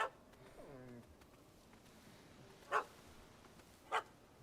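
A dog in The Witcher 3 gives a short whining yelp, then two sharp, distinct barks spaced about a second apart, over a quiet game background.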